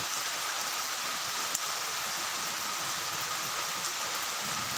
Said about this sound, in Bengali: বৃষ্টির ভিতরে দাঁড়িয়ে আছি একটু লাইভে আসলাম বৃষ্টি দেখানোর জন্য